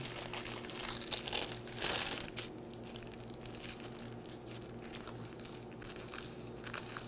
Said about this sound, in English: We're going to tear this paper right like that.